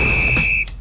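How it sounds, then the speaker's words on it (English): A referee's whistle signalling stoppage time sounds as one short, shrill, steady tone that cuts off abruptly, loud and close with no talk. "That whistle means it's stoppage time, which means the show's almost over."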